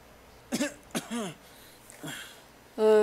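A video game character in One Dreamer coughs in pain, a few harsh, separate coughs and throat-clearing bursts spread over a few seconds, fairly close, followed by a brief tonal sound at the end.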